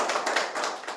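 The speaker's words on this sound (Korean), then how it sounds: "큰 박수로 맞이해 주시기 바랍니다." Conference audience at a Seoul youth-parent policy forum clapping to welcome a speaker, a short burst of brisk hand claps in quick uneven pulses, close and fairly loud with no voices.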